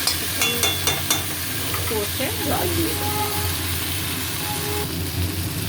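A spice paste of mustard, poppy seed, salt and turmeric sizzles in a pan while being stirred, with clattering scrapes early on and a continuous frying hiss under faint background noise.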